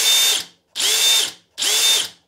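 A brushless DeWALT DCH133 one-inch SDS plus rotary hammer drill is triggered three times. Each burst snaps almost at once to full speed, a loud, close, steady whir lasting well under a second, with short silent gaps between.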